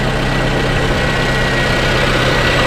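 2010 Toyota RAV4 engine idling with a newly installed alternator, a steady, loud, even drone heard up close with no other sounds.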